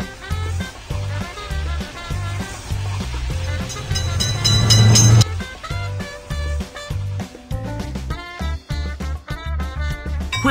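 A cartoon train passes in a children's level-crossing game: a loud, steady rumbling rush with clacking under bright, busy game music, swelling near the middle and then easing off.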